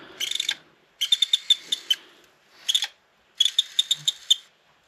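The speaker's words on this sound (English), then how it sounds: "the lens is going in and out right now, trying to read the disc" Bursts of high-pitched clicking and whirring come in short rapid pulses separated by pauses, a PSP UMD drive lens seeking and the motor spinning up trying to read a disc, close and fairly faint.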